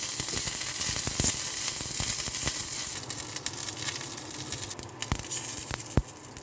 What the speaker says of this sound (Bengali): আর সর্ষে ফোড়ন দিয়ে ভালো করে ফোড়নটাকে ভাজা করে নেব